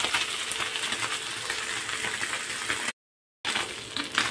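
Small fish fry in hot oil in a continuous close sizzle and crackle, broken by one brief gap of silence before the frying resumes.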